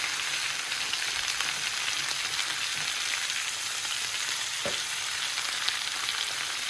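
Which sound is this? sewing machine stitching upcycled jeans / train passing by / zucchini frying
zucchini frying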